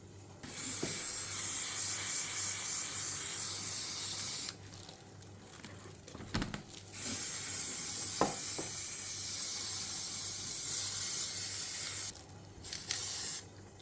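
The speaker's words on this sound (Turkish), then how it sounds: "Her tarafını sprey boyayla siyah olacak şekilde boyuyorum." Spray paint hisses from an aerosol can while a cut plastic bucket is coated black, long steady bursts broken by short pauses and a few clicks, close and fairly loud with no talking.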